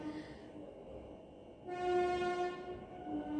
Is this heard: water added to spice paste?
no